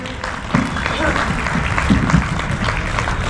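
Applause from the audience at a Hindi kavi sammelan poetry recital, a dense steady wash of clapping lasting throughout, fairly loud, with a few louder swells and a voice faintly mixed in.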